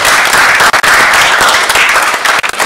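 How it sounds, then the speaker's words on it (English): Loud, dense clapping from a gathered audience for the day's speakers, a close, sustained roar of hands with a couple of brief dips before it resumes. "please clap for yourselves"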